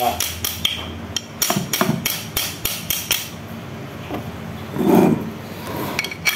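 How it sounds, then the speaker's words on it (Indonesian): Rapid metallic hammer taps ring out close by in a quick irregular series as a bearing is gently hammered into a water pump, then pause briefly before a few more strikes. "Kita palu-palu nanti, cuma pelan-pelan aja biar"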